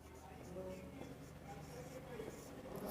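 Chalk or marker scratches and taps faintly across a board while equations for a class 10 maths lesson on linear equations in two variables are written, with soft strokes running under quiet speech.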